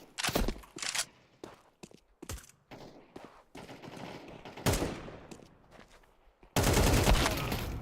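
Video-game gunfire in a shooter, with sharp separate shots and short bursts spread irregularly, ending in a loud sustained volley, with some movement sounds in the quieter gaps.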